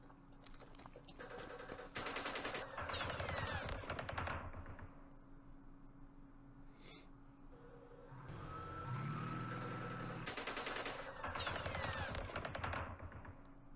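Bursts of machine gun fire in the wargame Campaign Series Middle East, set in the Battle of Jerusalem: dense rattling volleys come in two clusters, with a vehicle engine rumbling low between them and no one speaking.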